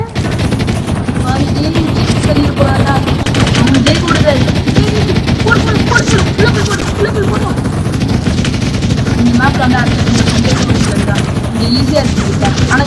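Rapid automatic gunfire in the Minefun video game's infection mode, loud and close, rattling almost without pause across the whole stretch, with dense game noise layered beneath it.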